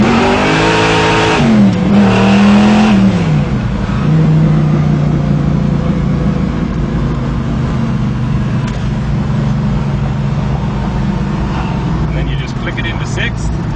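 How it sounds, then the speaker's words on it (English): A Chevrolet Impala muscle car engine revs up with a rising roar, then settles into a loud, steady low drone as the car drives under load. "This particular engine is a super strong engine."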